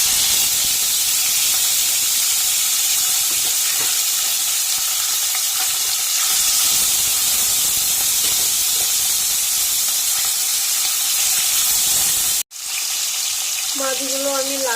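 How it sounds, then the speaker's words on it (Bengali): Small bata fish frying in hot oil in a kadai, a loud, dense, continuous sizzle and hiss close up, steady throughout with a brief break near the end. "মাছগুলো আমি লাল লাল করে ভেজে নেব।"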